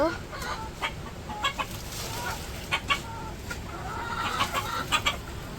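Farm chickens cluck in a village poultry shed at feeding time, with a run of short, scattered clucks over a steady fan-like hum in the background.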